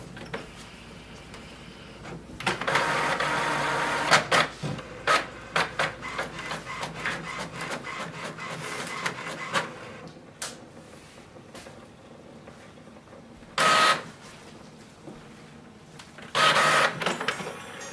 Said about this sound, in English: We can select any one and it will start the copy.